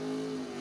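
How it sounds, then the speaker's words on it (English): Drag racing car launching hard with its front wheels lifted at a drag strip, a loud steady engine roar with strong low harmonics, close and continuous through the brief moment. "Nice wheels up launch here on the right-hand side."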